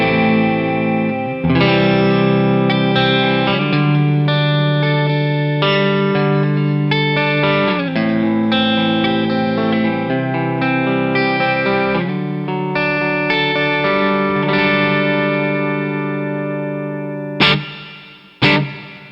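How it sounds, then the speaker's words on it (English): An electric guitar through an analog pedalboard plays chords and melody drenched in reverb and a hint of distortion, ringing out before a couple of sharp thumps at the end. "You can hear there's a little bit of reverb going on."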